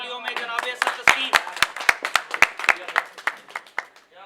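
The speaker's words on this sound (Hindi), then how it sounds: "आप सबके भरपूर तालियों में" Scattered audience clapping at an Urdu poetry mushaira in Lahore, distinct individual claps in an uneven rhythm, fairly close, with a voice speaking over it.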